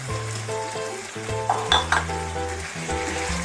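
Pasta is stirred and mixed with coriander leaves in a hot, sizzling pan, with a steady frying hiss under scraping and clinking of a utensil against the pan, punctuated by a few sharper metallic taps midway.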